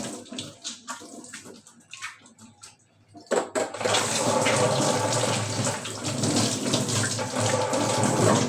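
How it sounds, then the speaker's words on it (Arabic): Tap water runs steadily and loudly as hands are rinsed, starting after a few seconds of quieter handling sounds and then continuing as a continuous broadband rush to the end. "طبعا أنا هشطف إيدي"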